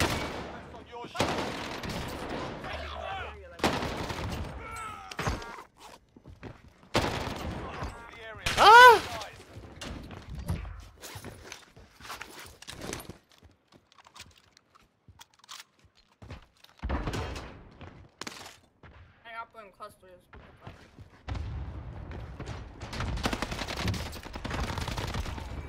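NZ-41 rifle fire in the video game Warzone Pacific on Rebirth Island, sharp bursts of gunshots scattered across the match amid player talk and other battle noise.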